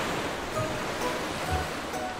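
Ocean waves wash in a steady, soft surf hiss, a continuous broadband roar with gentle swells and no voices.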